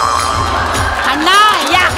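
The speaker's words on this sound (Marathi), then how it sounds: "जोरदार टाळ्या." Studio audience at a Marathi comedy show award presentation cheering and whooping loudly, with a crowd roar and voices calling out over it.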